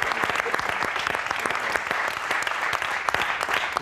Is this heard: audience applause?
yes